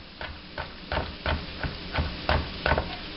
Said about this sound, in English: So we'll throw these right in there and just saute that.